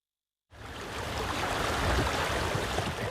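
Steady rushing water of the River Wyre, a broad continuous wash with a windy, surf-like texture, starting abruptly and holding loud and even with no voices.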